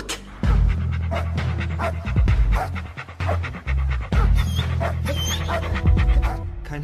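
A person imitates a dog panting for a crime radio play, giving rapid breathy huffs in repeated bursts with short gaps, close and loud, with a few faint whines near the end.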